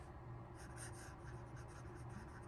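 Fountain pen with a steel nib writing on paper, a close, soft continuous scratching with faint rhythmic strokes, heard alone without talk.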